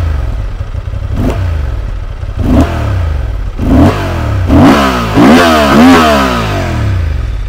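New Honda Transalp motorcycle engine revving up and down in repeated bursts, a deep, full-bodied roar up close and loud, with rising and falling pitch sweeps and no talk.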